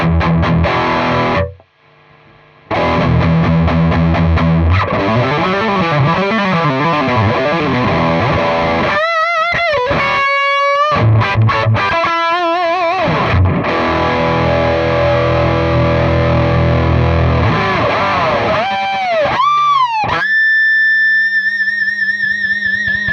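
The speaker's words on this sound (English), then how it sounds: "This thing has huge amount of gain." High-gain electric guitar run through a Yerasov Vital Higain VH-5 preamp, loud and heavily distorted, with chugging riffs, brief pauses and squealing pitch-bent harmonics toward the end.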